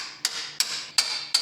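A hammer strikes the valve springs of a 1972 Buzzin Dozen engine in four evenly spaced, sharp metallic taps. Each tap leaves a bright ringing tone that lasts until the next strike.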